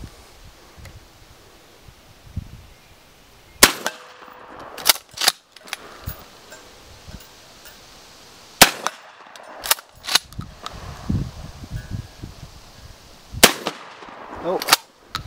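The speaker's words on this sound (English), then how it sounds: "So we're gonna put a couple shells down range and see if we can make some contact on the steel." An Ithaca 37 DSPS pump shotgun fires slugs at a steel target 50 yards away, with several sharp, loud blasts spaced seconds apart between quieter rustling and handling noises outdoors.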